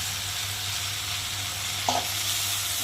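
Bhola fish (Bombay duck) and vegetables fry in spices with an even, moderately loud sizzle, a low steady hum, and one brief clink of a utensil partway through.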